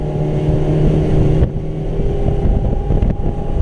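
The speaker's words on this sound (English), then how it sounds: "This boat is moving." A 2004 Sea Hunt 200 Escape boat engine drones steadily at high speed, around 4,900 rpm, with rushing wind and water noise throughout and a brief dip in the roar midway.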